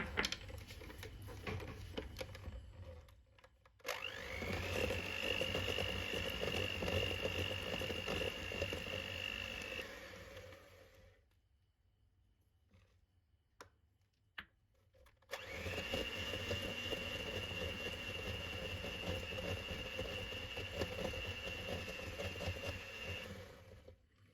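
An electric stand mixer beats butter and icing sugar for a Nutella butter cake, a steady whirring drone with a rising whine that runs for several seconds, pauses briefly, then starts again at the same loud, close level.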